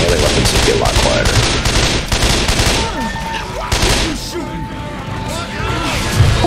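Rapid automatic gunfire rattles nonstop in Left 4 Dead 2 against a zombie horde, loud and dense with overlapping shots and impacts, while a player talks throughout.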